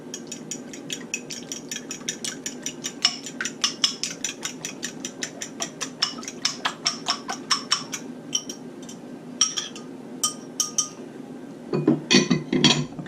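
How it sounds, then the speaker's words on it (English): Four large eggs beaten in a bowl for a buttermilk pie give a rapid, steady run of close, bright clinks of utensil against the bowl, with no talking and a brief busier clatter near the end. "I always like to beat my eggs a little bit before I put them in."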